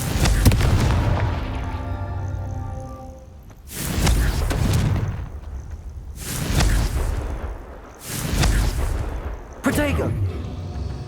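Fiery Confringo spell blasts from the video game Hogwarts Legacy go off as four heavy, booming explosions spaced a few seconds apart, each rumbling and fading before the next, with a voice calling out over the action.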